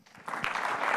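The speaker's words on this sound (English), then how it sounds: "Big round of applause." Audience applause swells quickly into a dense, steady clatter of many hands clapping, filling the room.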